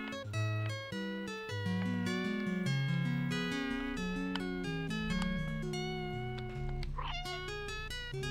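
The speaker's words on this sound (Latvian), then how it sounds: "Es vēl varu ņaudēt." A cat meows several times in the video game Stray, the cries rising over steady, loud melodic background music with no talk.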